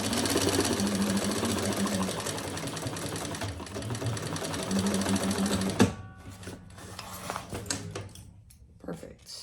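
A sewing machine stitching around three sides of a leather crossbody bag, a steady close whir that stops partway, followed by handling clatter and a voice talking.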